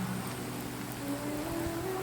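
Rain falls steadily in a misty Welsh valley as a soft, even hiss of drops on surfaces, faint and continuous, with a low tonal hum running underneath.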